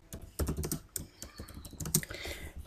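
Quick, irregular keystrokes clatter on a computer keyboard while an email is typed, soft, close clicks in uneven bursts with short pauses between them.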